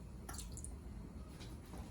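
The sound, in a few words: lemon juice splashed into eggs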